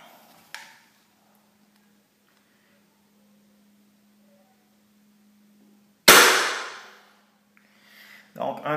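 A paintball fired at about 290 from roughly a foot and a half into ballistic goggles, a sharp loud crack with a brief decaying burst after near silence, followed by a second shorter noise.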